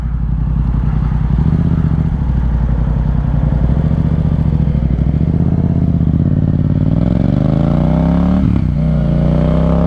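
A Yamaha FZ-07 motorcycle cruising on the road, its engine droning steadily and loudly up close with a rhythmic mid-range pulse, pitch rising through a gear near the end, mixed with constant wind rush.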